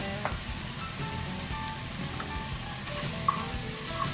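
Finely diced shallots sizzle steadily in a hot pan for shrimp and grits, a close, continuous frying hiss with a few faint stirring clicks and no talking.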